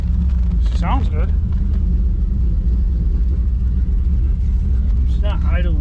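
An old junker car's engine idles roughly in a steady, loud, close rumble that runs throughout, with a few brief squeaky bursts near the start and end.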